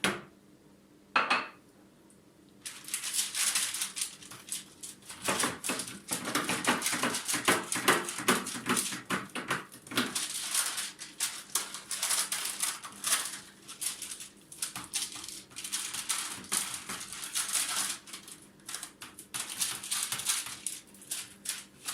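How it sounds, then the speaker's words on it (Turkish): Hands slapping, patting and stretching soft egg-topped Ramadan pide dough on a counter at home, a steady run of close, soft thuds and pats with small clattering touches and no talk. "Şimdi pidemizi açmaya başlayalım."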